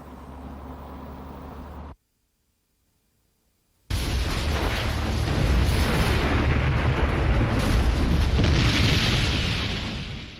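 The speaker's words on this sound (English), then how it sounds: "Wow, that's a big explosion." A big explosion in a deleted television drama scene bursts in after a moment of silence, a heavy boom swelling into a long roaring, crackling rumble that slowly fades.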